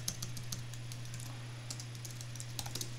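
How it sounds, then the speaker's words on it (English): Fingers tap a command into a console on a computer keyboard, a quick run of light, close clicks in uneven bursts with short pauses between, alone without speech. "I'm going to start by going to my console and typing in gulp"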